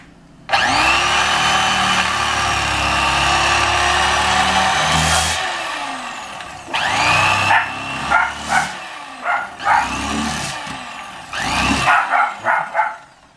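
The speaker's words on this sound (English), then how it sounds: "that's my dog barking" A loud whirring power tool runs steadily, then stops and starts in short bursts, with a dog barking in the background.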